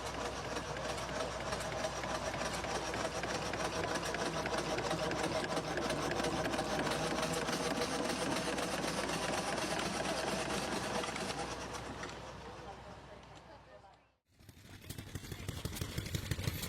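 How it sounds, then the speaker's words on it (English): A compact vintage Asahi Japanese agricultural engine from around 1935 runs with a steady, dense, rapid mechanical chatter. It stays loud and even, fades and cuts out briefly near the end, then picks up again. "The Asahi engine is a compact and elegant example of early Japanese agricultural engineering"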